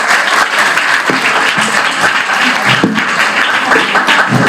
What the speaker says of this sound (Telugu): ఇలాంటప్పుడు మరొక చప్పట్లు కొట్టండి.